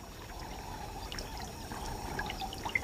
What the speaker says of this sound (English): The water will slowly refill the dry channels and dusty lagoons.